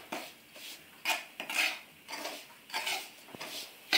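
Semolina roasts in a pan over medium heat while a metal spoon stirs and scrapes it in irregular bursts, close and fairly quiet, with no talking.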